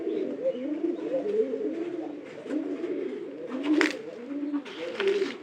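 Several pigeons coo close by in repeated soft, rolling phrases that overlap one another, with a brief wing flutter near the end and no talking.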